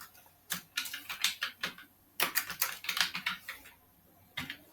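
Computer keyboard typing while entering details into gym business management software: several quick bursts of close, crisp keystrokes separated by short pauses, with no talking.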